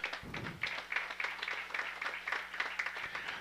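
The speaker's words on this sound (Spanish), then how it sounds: "El aplauso para él" An audience applauds a mayor at a pavement inauguration in Chemiche, San Sebastián, Huehuetenango, with steady moderate clapping that holds for about three seconds over a low hum.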